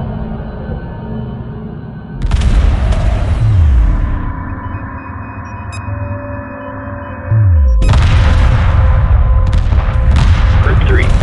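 Weapons fire during a space battle in the video game Homeworld Remastered: loud, sustained barrages of booming shots with descending sweeps and sonar-like tones, swelling in two heavy waves over a constant rumble.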